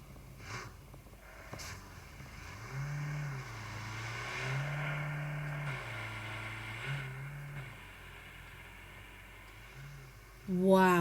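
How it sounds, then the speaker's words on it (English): A car in the PUBG video game drives away: an engine hums and revs through rising and falling tones over several seconds, fairly quiet and mid-distance, with a louder burst at the end. "Team 19 have just got in a car and driven away"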